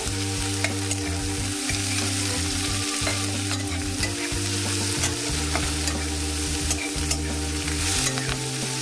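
Chopped onions and spring onion stalks frying together in a pan, giving a steady, close sizzle with continuous stirring and scraping throughout. No one speaks.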